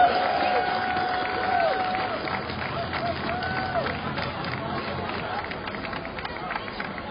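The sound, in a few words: crowd applause and cheering at a parade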